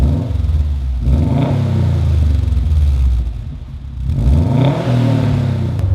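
Subaru WRX STi fitted with an Invidia Q300 exhaust revving, two deep rising throttle blips over a steady loud rumbling idle, close by with no voices.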